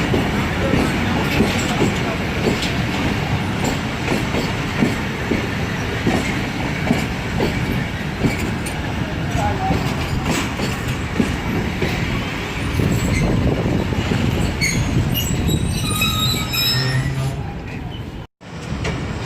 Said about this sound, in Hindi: सर सैयद एक्सप्रेस 5 मिनट रुकने के बाद ट्रिग रोड जंक्शन रेलवे स्टेशन से निकल रही है